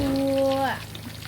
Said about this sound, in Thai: ต้องใช้ไฟอ่อนทอดแบบนานนิดนึงกรอบ ทอดกรอบเลย